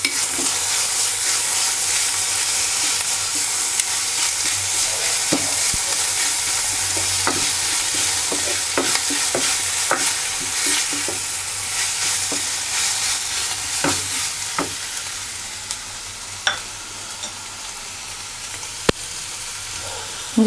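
Ginger garlic paste and softened onions frying in a pan for salna, with a constant close sizzle and repeated scraping stirs of a spoon throughout.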